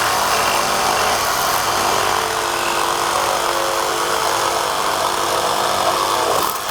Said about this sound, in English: I like the sawing action with the saw.